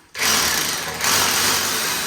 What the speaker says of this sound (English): he's going to drill a hole